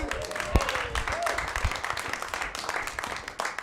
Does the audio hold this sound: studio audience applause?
yes